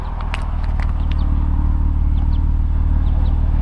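BMW M4 engine idling with a deep, steady exhaust rumble, loud and close, a continuous low throb with faint chirps of birds in the background.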